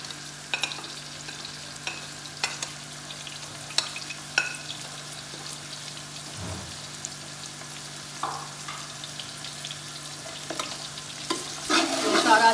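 Onions and whole spices frying in a pot for chana pulao while being stirred, a steady close sizzle broken by scraping spoon strokes and a few clinks, no voices.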